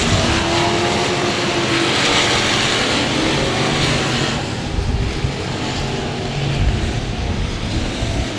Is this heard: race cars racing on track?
yes